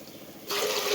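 Water runs steadily into a pot of rice for ghee rice, a broad rushing splash that starts abruptly halfway through and continues loud and close.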